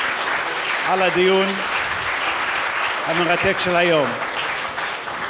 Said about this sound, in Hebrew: שכולנו רוצים למחות כפיים לפאנליסטים הנפלאים שלנו ולהודות להם